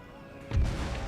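Cannon firing canister shot at a Spanish formation in Empire: Total War, a single booming blast that bursts in midway and rumbles on briefly, fairly close.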